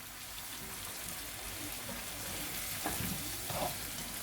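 Sliced tomatoes sizzle in a pot of garden egg (eggplant) stew with a steady, soft frying hiss and a couple of faint clinks or stirring taps toward the end.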